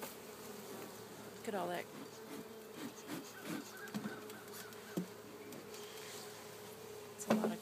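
Honeybees buzz in an opened beehive full of built-up comb, a steady close hum with individual bees whining past, while people talk quietly over it.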